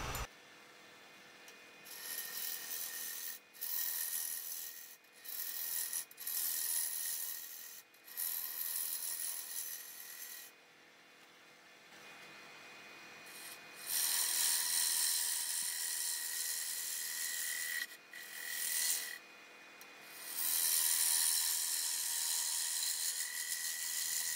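Wood lathe turning a wooden platter while a tool makes pivoting, pull and push cuts: close hissing, rasping cuts in repeated bursts separated by short pauses, with a steady faint whine of the lathe beneath.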